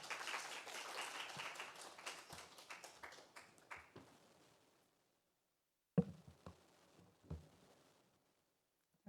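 A church congregation at a Korean Wednesday worship service in Hawaii claps in a burst of applause that thins into scattered claps and fades out, then a few isolated taps and knocks follow after a brief silence.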